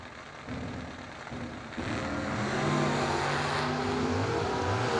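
A 1970 Nova and a 1967 Chevelle at a drag race, their engines roaring and revving louder as the run builds, a rising, sustained mechanical drone heard from nearby.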